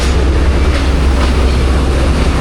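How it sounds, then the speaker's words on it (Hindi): The Jaffar Express pulling into Rohri Junction, a loud, dense, steady rumble of a train passing close by, with a constant low roar and no clear pauses. "अब जाफ़र एक्सप्रेस भी आ गई है"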